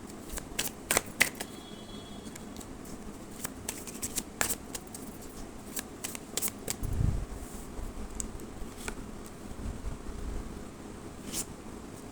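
Tarot cards are shuffled by hand for a reading, with soft riffling and sharp snapping flicks in irregular bursts across the clip, close and fairly quiet, with no voice.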